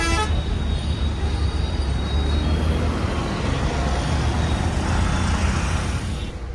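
Heavy road traffic rumbles continuously in Ghaziabad, with a car horn tooting at the start and engines and tyre noise droning loudly throughout.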